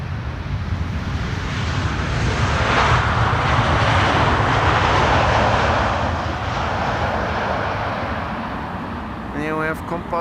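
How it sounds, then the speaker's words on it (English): A KLM Boeing 777-300 from Panama City lands on Schiphol's Polderbaan runway 18R, its engines roaring loudly and steadily for several seconds before slowly fading toward the end. "KLM flight 758 arriving from Panama City, 777-300 8 hours and 52 minutes on the way"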